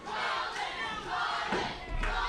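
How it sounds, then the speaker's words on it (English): Loud crowd noise from wrestling fans cheering for Nate Collins at a Texoma Pro Wrestling show, a sustained roar with a few swelling shouts and a low thud near the end. "Fans still cheering for Collins"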